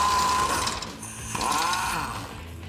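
A hand ratchet on a 21mm socket backs a bolt out of a welded nut under a 2014-2018 Silverado 1500, giving a close run of quick clicking strokes with brief pauses between them.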